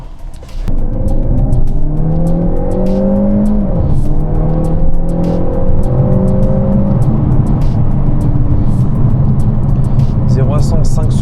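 A Peugeot 508 PSE pulls hard from the start, its engine note climbing through several rising gear sweeps, loud and close from inside the car, with voices talking over it.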